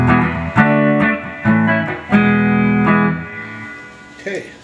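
A Hagstrom XL5 electric guitar on its neck humbucker, played through a Peavey Prowler amp, rings out in several strummed chords, each sustaining with a warm, slightly driven tone before the next attack, loud and close.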